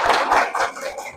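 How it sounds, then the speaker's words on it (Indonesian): Students give a brief round of applause in a classroom, a short burst of claps fading after about a second. "Ya, tepuk tangan dulu."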